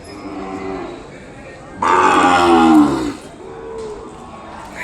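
An Ongole bull at a cattle market in Kodad lets out one long, deep moo up close, rising over quiet surroundings and fading after about a second.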